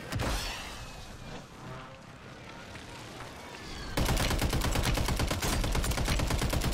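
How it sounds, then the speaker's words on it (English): Rapid automatic gunfire in a Call of Duty Warzone match with a Pulemyot machine gun, loud dense bursts building to a sustained rattling stream, with game sounds earlier. "Oh shit, I'm getting shot from somewhere else."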